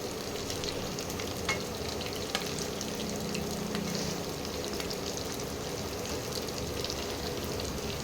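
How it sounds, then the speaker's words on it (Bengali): Pointed gourd (potol) frying in a pan, a steady close crackling sizzle that goes on throughout, with a few light stirring taps and no voices. "অল্প করে, অল্প লাল করে ভাজতে হবে।"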